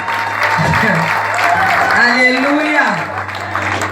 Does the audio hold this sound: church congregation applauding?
yes